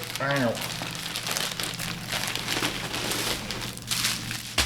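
A plastic shipping package is torn open and crinkled, producing continuous rustling and crackling across the clip, with a brief voice sound near the start.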